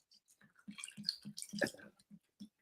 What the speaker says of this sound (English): that's you pouring a drink